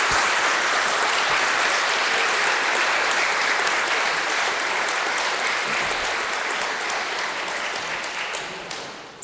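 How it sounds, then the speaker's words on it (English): A large audience claps at the end of a talk on the Battle of Kursk, sustained and dense like a steady downpour, tapering slightly toward the close. "And please give a round of applause for David Glenn."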